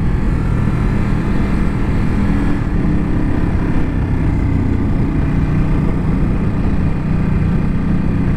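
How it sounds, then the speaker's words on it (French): 2021 Ducati Supersport 950 S with its stock exhaust, heard from on board while riding as a loud, continuous engine drone mixed with heavy wind rush, steady throughout with no voices. "ce pot d'origine, tous les retours qu'il y a, c'est impressionnant"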